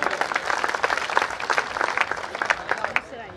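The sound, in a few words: audience applause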